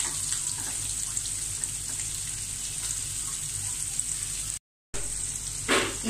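Curry leaves, green chili and ginger frying in hot oil for a date pickle, a steady close sizzle with a brief cut and a short louder stir near the end.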